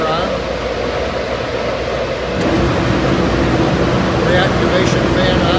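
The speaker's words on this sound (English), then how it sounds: "Supply blower on." A Herc Rentals MS2400 dehumidifier's supply blower whooshes up partway through, raising an already loud, steady broadband mechanical hum into a fuller, deeper rushing drone that holds steady to the end.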